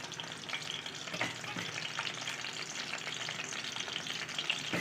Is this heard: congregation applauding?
no